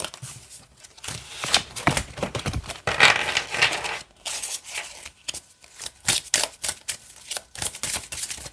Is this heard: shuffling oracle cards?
yes